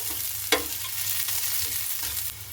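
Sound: onion frying in mustard oil with cumin

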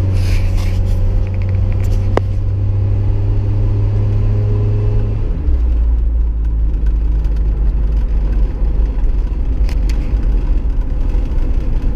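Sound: Jeep Wrangler engine growling while driving

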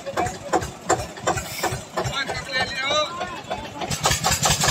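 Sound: Eicher tractor engine starting and running

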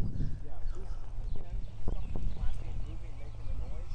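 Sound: horse hooves clip-clopping

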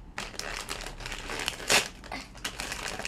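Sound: plastic gift bag being opened, crinkling

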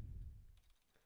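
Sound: typing on a computer keyboard

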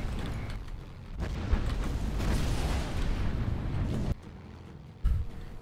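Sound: bombs exploding in Battlestations Pacific video game

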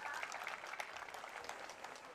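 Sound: audience applause at a programme

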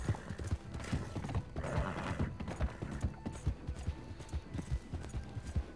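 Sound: horse hooves galloping, video game

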